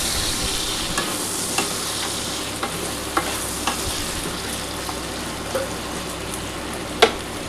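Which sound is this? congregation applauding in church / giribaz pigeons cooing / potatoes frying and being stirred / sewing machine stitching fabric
potatoes frying and being stirred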